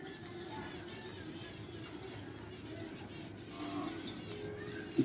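Pigeons coo steadily in a loft gallery, a low murmuring bed of calls throughout with no talk, ending on a short loud knock.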